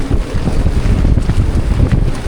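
Strong wind roars across the microphone on a sailboat in an Atlantic storm, a loud, steady low rumble with gusts and water noise, continuous throughout with no voices.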